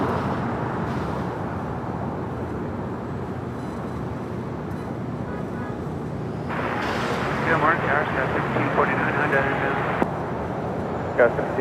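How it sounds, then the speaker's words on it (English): A China Airlines Cargo Boeing 777 freighter lands at LAX as a steady, broad jet roar that swells louder about halfway through, with radio chatter and voices over it. "China Airlines Cargo, 777 freighter."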